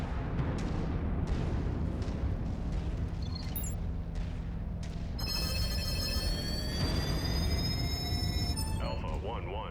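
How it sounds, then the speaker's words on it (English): In MechWarrior 5, battle mechs trade weapons fire while explosions rumble across a war zone, forming a dense, continuous roar with sharp blasts and rising tonal whines, mixed with voices. "even a couple of mechs rolling around and extra shooty shit up into the sky feels like it's an active war zone"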